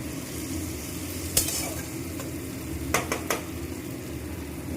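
Onions fry in hot oil for a Bengali fish tel jhal curry, a soft, steady sizzle broken by a few sharp clinks of a spoon stirring against the pan.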